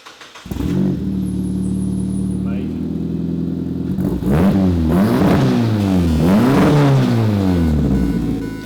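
A car with a loud free-flowing side pipe exhaust on a 1.5 litre turbocharged four-cylinder settles into a steady idle, then revs up and down in repeated rising and falling swells, close and loud, with voices talking over it.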